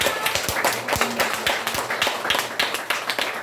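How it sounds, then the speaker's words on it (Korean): A small church congregation claps in quick, uneven beats, a modest burst of applause in a room, fairly close with no talking. "우리 박수로 환영하겠습니다."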